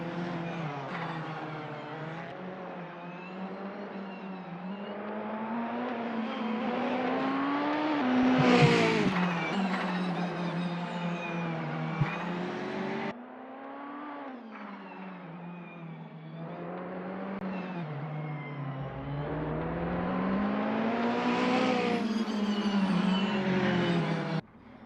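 Alfa Romeo race cars in the racing game Assetto Corsa, their engines droning and rising and falling through gear changes, a steady continuous loud roar of cars driving with no voice over it.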